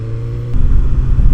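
A BMW motorcycle pulls away on a hot day, its low engine rumble idling briefly before swelling louder and rougher as the bike rides off, close and steady throughout.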